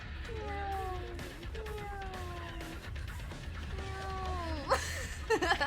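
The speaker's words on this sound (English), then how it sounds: "I see you, oh my cat." A pet cat meows several times in a row, drawn-out wavering cries at moderate volume over a low background hum, ending with a few sharp clicks.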